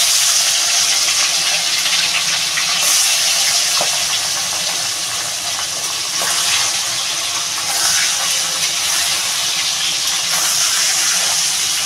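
Fish drop into hot mustard oil and fry with a loud, continuous, steady hiss and sizzle that fills the whole stretch, with faint crackles underneath and no talking.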